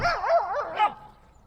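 Dogs close by let out a rapid run of yelping, wavering barks that climb and fall in pitch, ending with one last yip before fading into quiet.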